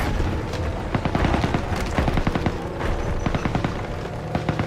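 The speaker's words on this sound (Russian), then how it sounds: "Слышу стрельбу! Они атакуют наших!" Dense gunfire and booming explosions in a Call of Duty WW2 battle, with rapid overlapping shots and rumbling blasts forming a loud, continuous barrage throughout.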